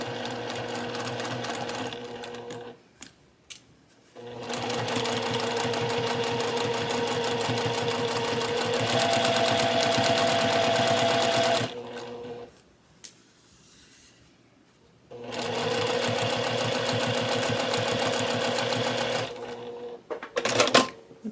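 A sewing machine stitches down the seam of a cross stitch pillow, running in steady buzzing bursts with short pauses between them, close and alone without talk.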